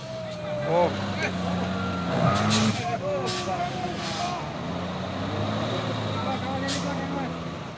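A tronton Fuso 6x4 truck tows another truck at a roadside scene, heavy diesel engines droning and shifting pitch with a hiss of air brakes, while people talk nearby.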